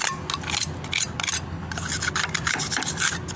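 A hand tool scraping out a joint between concrete slabs, a close, steady rasping and scratching with quick repeated strokes and no pauses.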